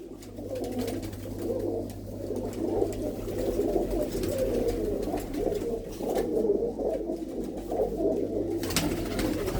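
Many pigeons coo continuously inside a loft of nesting boxes, a dense, steady murmur of overlapping calls close by with no talking.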